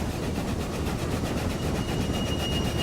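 A wool and fish train in the Railway Empire game rolls past close by, a steady dense rumble with faint rhythmic clatter, no voices.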